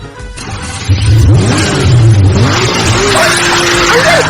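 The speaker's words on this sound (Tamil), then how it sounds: "சார் நீங்க வண்டி ஸ்டார்ட் பண்ணுங்க" A vehicle engine starts and revs loudly and close by, a continuous rising and falling roar with overlapping pitch sweeps, and no talk over it.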